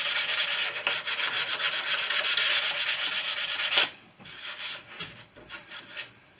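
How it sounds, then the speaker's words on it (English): Hand sanding the edge of a wooden model aircraft aileron with 320 grit sandpaper: steady, close rasping strokes for about four seconds, then a few shorter, softer rubs. "I'm just using some 320 grit now, just to round that edge off a bit."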